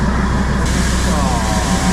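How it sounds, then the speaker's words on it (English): A 100-year-old Darjeeling heritage steam engine hauls its small train through the Himalayan hills, a loud, steady mechanical rumble and clatter close by with a faint tonal whine, and people talking over it. "Look at how that steam engine is pulling that train."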